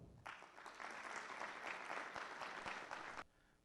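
Conference audience applause at a judicial ethics event for public servants, a sustained wash of many hands clapping for about three seconds before cutting off abruptly into quiet room tone, heard from some distance.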